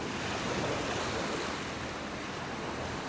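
Ocean waves break along a beach in North Naples, Florida, giving a steady, broad surf roar with a soft wash and no talking.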